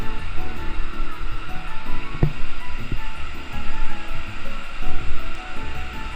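Waves churn in the artificial sea wave pool at Vana Nava water park in Hua Hin, giving a steady, loud wash of surf with splashes and faint crowd noise throughout, with no clear talk.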